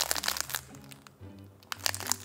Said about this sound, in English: Listen to that crunch.